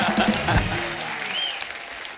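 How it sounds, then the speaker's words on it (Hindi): Studio audience at a comedy show breaks into loud applause, a dense burst of clapping close by that fades over about two seconds, with a brief voice heard in the mix. "जोरदार तालियां"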